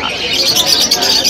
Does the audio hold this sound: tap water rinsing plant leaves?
no